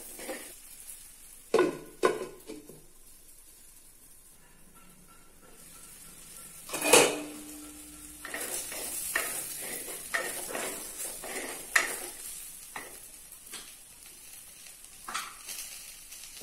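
Okra pieces stirred in a frying pan, with scattered spatula scrapes and clinks against the pan over a soft sizzle, growing busier and louder toward the end, no talk.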